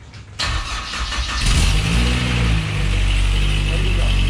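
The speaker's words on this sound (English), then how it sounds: "So I want to start it." A Spartan Urban Warrior hydro jetter's engine cranks and catches after a short lull, then settles into a loud, steady mid-pitched running drone close by, with some voices under the noise.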